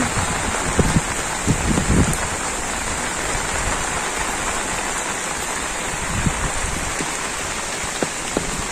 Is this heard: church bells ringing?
no